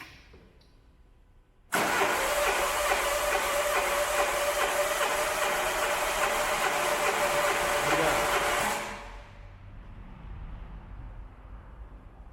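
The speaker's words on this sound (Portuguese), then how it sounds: "Para isso é preciso pisar no acelerador e virar a chave até esse manômetro parar de subir." A Nissan Livina engine cranks during a compression test with the accelerator held down: a loud, steady whirring crank runs for about seven seconds, then cuts to a quieter background hum.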